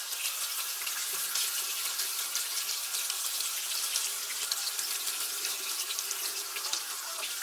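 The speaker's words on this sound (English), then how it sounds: "Then I go ahead and I'll rinse off the mitt as well as the brush." Tap water runs steadily into a sink while a makeup brush and cleaning mitt are rinsed under it, a constant close hissing splash with no talking.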